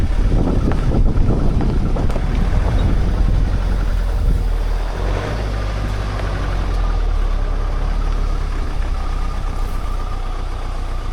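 A 4x4 off-road vehicle's engine rumbles loudly and continuously with heavy low-end drone and wind buffeting the microphone, driving over rough mountain ground to an olive grove; no talking.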